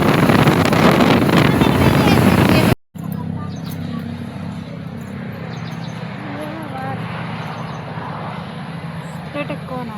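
Strong outdoor wind buffets the microphone in a loud, roaring rush. After a sudden cut, quieter wind continues beneath a steady low rumble and faint background sounds.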